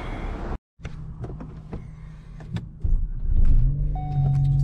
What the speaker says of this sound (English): Okay, started the car up.